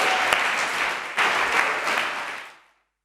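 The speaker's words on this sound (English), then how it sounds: "Dear Katharina, you deserved yourself a round of extra applause" Steady audience applause at a university ceremony, a dense wash of clapping that holds for over two seconds before fading away.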